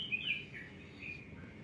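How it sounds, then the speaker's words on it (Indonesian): Birds chirp outdoors in undisturbed nature, a few clear tweets in the first half second, then a softer call, faint and alone over quiet background. "Burung terus berkicau"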